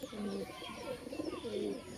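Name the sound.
pigeons cooing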